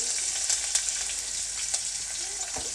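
Cumin seeds, curry leaves and finely chopped onion frying in hot oil, giving a steady bright sizzle with a few crackles and pops, fairly close, no one talking.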